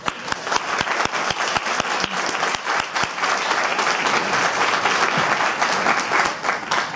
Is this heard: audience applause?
yes